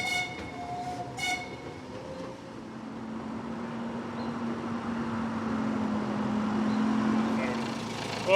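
Miniature railway locomotive fitted with a two-cylinder Dorman 2DL Mark III diesel, running along the edge of a park at Scarborough's North Bay Railway, giving a steady low engine drone with rolling rail noise and a couple of brief horn-like tones early on.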